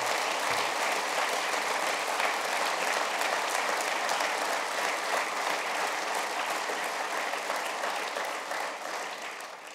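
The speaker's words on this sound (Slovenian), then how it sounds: "Predlagam, da zato prav vsem junakom namenimo en bučen aplavz." Loud, sustained applause from a large audience at a ski federation centenary ceremony, honoring coaches and support staff, a thick even roar of clapping lasting nearly ten seconds before easing off.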